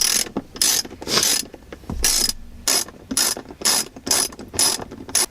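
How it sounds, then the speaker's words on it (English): A ratchet wrench loosens bolts on Subaru BRZ interior trim, giving close, crisp clicking bursts in a quick irregular rhythm with short pauses between strokes. "it looks like I'm going to have to remove these two bolts"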